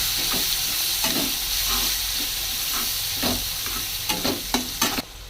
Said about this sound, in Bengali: পেঁয়াজ, ভালো করে নেড়ে নিই।